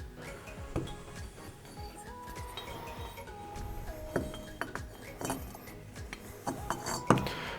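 Metal cylinder jug of an XR250R engine being slipped down onto the piston, giving a series of small, close, irregular metallic clinks and taps with light handling noise between them.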